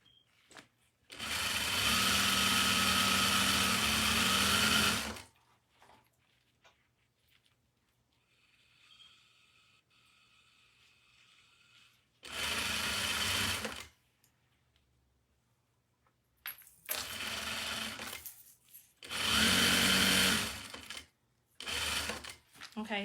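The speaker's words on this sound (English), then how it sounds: "while I'm sewing, my other bobbin is over here winding as well, because it's a bobbin winder on the other side of the Juki." A Juki industrial sewing machine stitching anklets runs in four loud, steady whirring bursts of a few seconds each, with near-silent pauses between them while a bobbin winder turns alongside.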